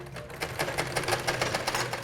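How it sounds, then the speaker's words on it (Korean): A sewing machine running in a home, a fast steady mechanical rattle of needle strokes throughout, fairly quiet and close, with no talk over it. "아이들을 학교에 보낸 집에선 재봉틀 소리가 가득합니다."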